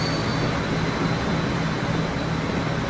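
A train rolls past in the rail-management game Transport Fever, a steady dense rumble with a faint high tone running throughout, with no pauses or talk.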